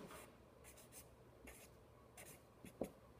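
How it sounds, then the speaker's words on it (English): Pen or marker strokes on a board or paper while working out an economics problem, a series of short, faint, close scratchy strokes with small pauses between them. "let me write this here"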